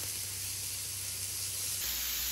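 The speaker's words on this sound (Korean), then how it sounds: "지글지글 불판에 놓자마자 고소한 풍미가 확 느껴지는 거 있죠?" Beef sizzles on a hot grill plate, a steady close hiss of frying meat that carries on alone without talk, with a slight shift in tone near the end.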